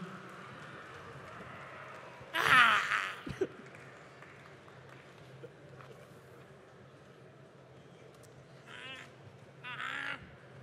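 A conference audience at Japan Expo 2024 voices imitates Godzilla roars in a few scattered, brief bursts of shouting, with a louder cluster early and two more near the end over a quiet room hum.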